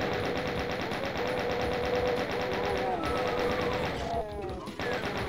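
Chaingunner enemies firing in the shooter Doom 2, rapid repeated gun bursts rattling continuously alongside in-game noise, loud and dense with a brief break near the end.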